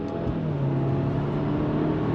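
A 2023 Subaru WRX GT pulls under throttle, its engine giving a steady close whirring drone that holds its pitch and climbs only slightly over a couple of seconds.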